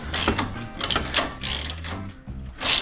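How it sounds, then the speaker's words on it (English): A ratchet wrench working a sway bar nut loose on a 2013-2018 Ford Focus ST, loud close bursts of rapid clicking that stop and start several times. "you're gonna stick that on there, break the torque loose on the nut"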